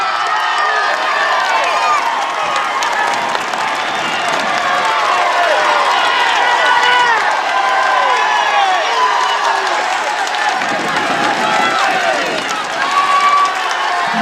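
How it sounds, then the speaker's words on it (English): A massive roadside crowd cheers in Arreau as the Tour de France leaders pass on stage 15, 16 or 17 of the 2012 race, a dense continuous roar of shouts and applause with voices mixed in. "Massive crowd in Arreau, best I've ever seen, I think, for the passage of the leaders of the Tour de France."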